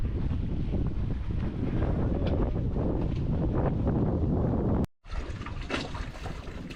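Steady wind buffets the microphone on a sailing boat, with rushing water and gusts throughout, briefly cutting out before resuming.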